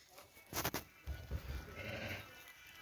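Sheep that arrived from Kashtan Sveti three days ago bleat in a pen, a couple of loud nearby calls followed by quieter animal noises and faint background rustling.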